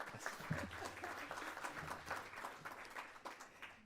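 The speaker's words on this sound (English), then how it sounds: "a polite golf applause for all of that" A forum audience gives polite, scattered applause, soft and sparse clapping from a modest crowd in a hall, faint with a low hum underneath.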